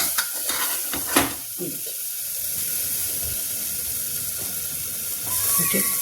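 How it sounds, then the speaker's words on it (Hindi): Masala spices fry in a pan for a pea curry while being stirred: a steady close sizzle with scraping stir strokes and a few clinks near the start. "मसाला भून चुका है"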